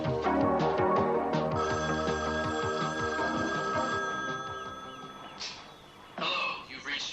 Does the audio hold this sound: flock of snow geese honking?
no